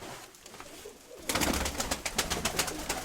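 Pigeons with blue-grey plumage cooing close by in a loft, a steady murmur that starts quietly and swells into a louder, continuous cooing chorus.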